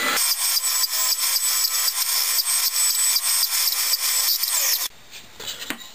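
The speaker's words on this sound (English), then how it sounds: "Quick run on the radius sander," A radius sander running against the wood of a speaker box for an S10 Blazer gives a close, high rasping whir with rhythmic pulsing for about five seconds before it abruptly stops, followed by faint handling noise.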